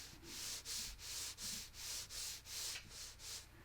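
Soft, rhythmic scratchy strokes of a watercolor brush drawing thin lines across paper up close, about eight even swipes in a steady back-and-forth pattern, quiet and dry.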